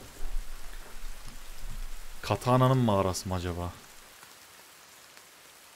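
Steady rain falling in the survival video game The Forest, a soft, even hiss in the background, with a voice speaking briefly over it partway through before the rain thins out.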